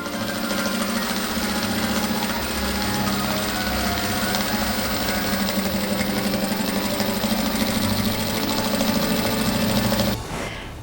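A sewing machine runs continuously while quilting the layers of a patchwork table centrepiece, a close, steady rapid chatter of stitching that holds for about ten seconds and then stops.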